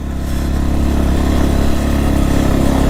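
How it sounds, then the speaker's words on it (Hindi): A motorcycle engine held at full throttle in second gear while climbing a steep mountain road, producing a loud, steady, strained drone close by that runs unbroken throughout. "सेकंड गियर पे मुझे फुल थ्रॉटल पे रखना पड़ रहा है, देखो"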